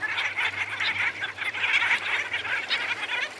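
A bird sound effect: a dense flock of fowl-like birds honking and squawking continuously, busy and fairly close, with no voices over it.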